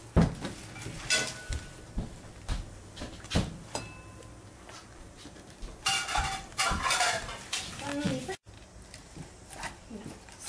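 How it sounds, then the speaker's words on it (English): Dishes are washed in a sink: ceramic plates, pots and cutlery clatter and clink continuously with running water at close range, and voices can be heard faintly in the background. "give me your dishes. I'm gonna wash them,"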